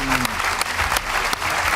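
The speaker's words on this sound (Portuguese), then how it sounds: "Depois de aplauso tão mísero..." Applause from a live audience at a magic show, steady and dense throughout, with a few sharper claps standing out and faint voices underneath.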